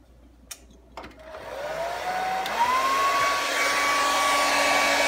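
A hair dryer switches on after a couple of small clicks and runs steadily at close range, drying a freshly made painting, its whine rising slightly in pitch as it settles into a constant loud blow.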